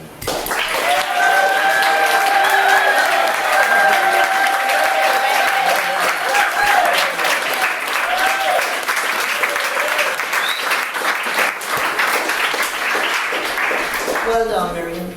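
Sustained applause from an audience at a book launch, thick and steady for about fifteen seconds with a few voices and cheers mixed in, tapering at the very end.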